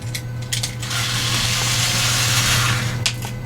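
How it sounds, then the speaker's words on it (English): A small Phillips head screwdriver turns screws out of a 3D printed drop leg holster, giving a close, steady ratcheting whir with a low mechanical hum, with a few clicks at the start and end. "You remove the 2 screws"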